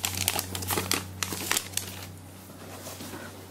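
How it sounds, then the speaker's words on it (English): An HTC Titan phone is pulled from its packaging: close, crisp crinkling and rustling of plastic and paper in quick bursts that fade to quiet toward the end. "Let me just take it out of the packaging"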